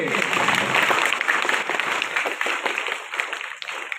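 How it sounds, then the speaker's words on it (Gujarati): Sustained applause from a large group, dense and loud at first, thinning slightly toward the end. "તો આપણે જોરદાર એકવાર તાળીઓથી બધાઈ લઈએ"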